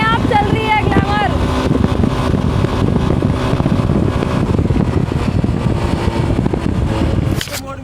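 A Hero Glamour motorcycle runs on cruise control, giving a steady, loud engine drone mixed with wind noise, with a brief voice at the start, before cutting off abruptly near the end.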